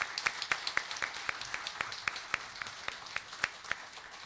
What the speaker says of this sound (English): I'm going to clap for you.